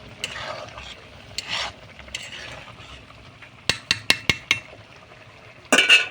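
Lote fish with meat masala being stirred in a pan: soft scraping and rubbing at first, then a quick series of sharp clinks of a spoon against the pan, with no talking.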